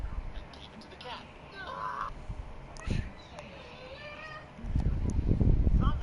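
A small cat meows a few times indoors, short bright cries between stretches of people talking, with louder rustling and voices toward the end.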